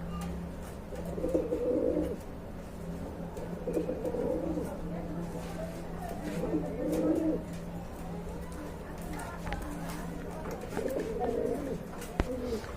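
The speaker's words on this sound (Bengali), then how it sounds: "খুবই সুন্দর কবুতর এই যে দেখতে পাচ্ছেন" Pigeons coo in repeated low, throaty bursts at a pigeon market in Bangladesh, steady background bustle filling the gaps between calls and faint people talking nearby.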